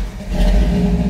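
A 1955 Chevy pickup with a carbureted engine runs just after starting, a loud, close, steady low rumble with a slight rise in revs and no talking over it.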